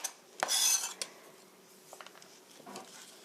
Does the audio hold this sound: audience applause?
no